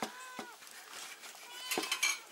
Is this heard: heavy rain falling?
no